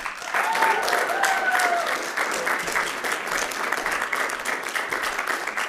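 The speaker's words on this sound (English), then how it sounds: "Let's have another round of applause for Amanda Trapp." A theatre audience applauds for Amanda Trapp, a steady wash of clapping that stays loud and even throughout, with faint voices and a brief whoop rising over it near the start.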